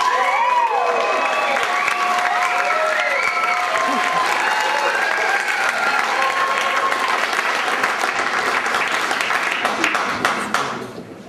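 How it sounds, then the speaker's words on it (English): Warm audience applause at a poetry reading in Nimbin, sustained clapping with some cheering from a crowd, while a voice speaks over it and the sound tapers off at the end. "big, warm round of applause for Biko"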